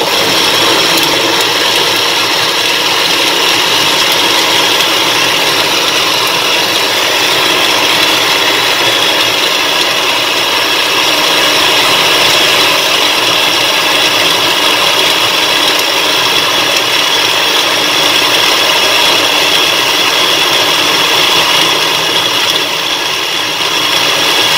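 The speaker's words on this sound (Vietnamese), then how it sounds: "Bây giờ thì các bạn sẽ bật máy xay lên nhé." A blender whirs steadily and loudly, blending a watermelon ice cream mixture made with lime juice, a continuous motor drone with no break and no voices.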